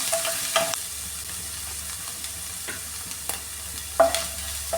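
Crushed ginger and garlic sizzle in hot coconut oil in a pan for chicken roast, a steady close frying hiss with a few brief scraping stirs, no voices.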